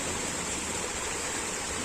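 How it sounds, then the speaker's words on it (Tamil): Rainwater after heavy rain rushes steadily through a canal in Tirunelveli, a continuous close hiss and gurgle with no pauses or voices. "அந்த பக்கத்துலேருந்து வந்த தண்ணி இப்படி ஓடுதா"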